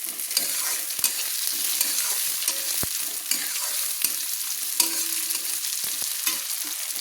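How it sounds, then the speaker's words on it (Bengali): Chopped capsicum sizzles in a pan with chicken and cauliflower as it is stirred, a steady close frying hiss broken by repeated spatula scrapes and taps, with no voices. "আমি যে ক্যাপসিকাম কুটে ধুয়ে রেখেছিলাম সেগুলো দিয়ে দিলাম, দিয়ে ভালো করে নেড়ে নিলাম"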